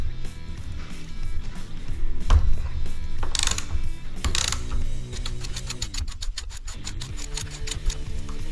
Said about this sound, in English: I'm going to use a 22 millimeter 6-point socket to remove the caps.